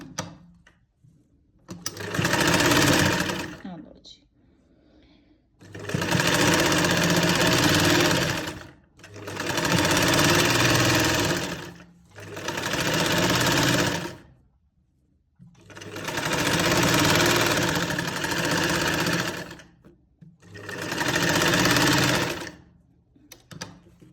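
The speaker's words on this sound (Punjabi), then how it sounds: "ਇੱਥੋਂ ਨਾ ਆਪਾਂ ਸਲਾਈ ਡਬਲ ਕਰਨੀ ਆ ਤਿੰਨ ਚਾਰ ਵਾਰੀ" A sewing machine stitches a sleeve seam in about six steady, loud bursts of rapid whirring, separated by short pauses. No voices are heard.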